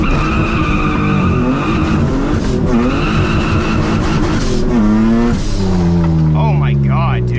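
A 600HP turbocharged V6 Honda Civic launches hard from a dig, its engine roaring up through the revs toward a 7,000 rpm limiter with loud tire squeal, continuous and close from inside the car.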